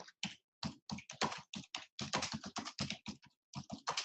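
Typing on a computer keyboard, a steady run of close, crisp key clicks in quick bursts with short gaps, heard alone.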